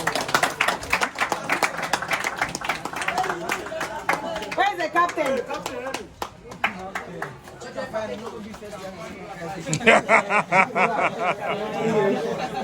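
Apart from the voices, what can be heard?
crowd clapping for second-prize team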